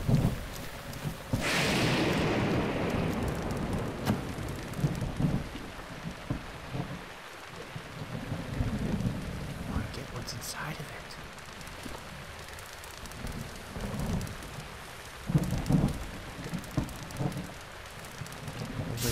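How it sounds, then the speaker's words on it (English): A thunderstorm in the video game Breath of the Wild, with steady rain pattering and occasional low rumbles of thunder, no talking. "Now this is thunderstorm, of course it is."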